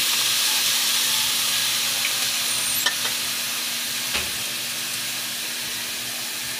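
Pork sizzles and is stirred in a hot pan with chili and ginger, a continuous bright frying hiss with a couple of soft scrapes of the spatula, close and fairly loud with no talking.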